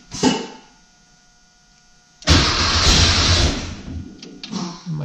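A VW Beetle with an Autostick semi-automatic transmission starting up in a garage while up on a hoist: a short click and hum, then the engine cranks and catches into a loud, steady idle with a brief blip near the end.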